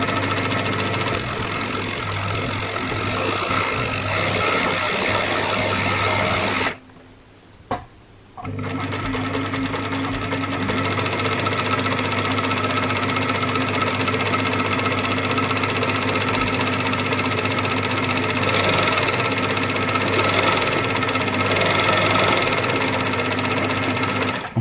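A very old sewing machine run by a foot pedal, stitching a sock, makes a loud, steady mechanical chatter that stops briefly and then starts again, running on at a continuous rapid clatter.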